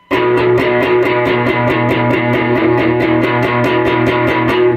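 Fast, steady picked riff on a distorted electric guitar, strings damped so each note stays short and choppy; loud and close, running without pause.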